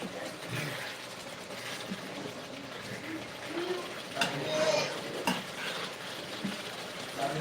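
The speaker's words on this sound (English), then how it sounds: "this is stir-fried vegetable sauce with spaghetti" Vegetable sauce stir-fries in a pan for spaghetti at a live cooking session, a steady hiss with a few clinks of utensil against cookware; no talking.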